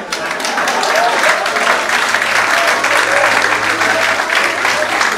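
An audience at a church seminar breaks into sustained applause, a dense wash of clapping that holds steady for several seconds, with a voice faintly audible beneath it.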